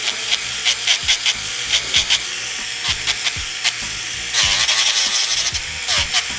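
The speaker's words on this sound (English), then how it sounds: "we're going to buff the new growth with the acrylic" A buffer works lightly over acrylic nail new growth in quick, rhythmic rasping strokes, close and dry, with short bursts of scraping that come in uneven runs.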